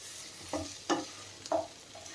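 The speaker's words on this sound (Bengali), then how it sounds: "পেঁয়াজটাও আমি সেভাবেই ভাজছি" Chicken and onion fry in a pan as they are stirred, with several short scraping strokes over a quiet, steady sizzle. No one speaks.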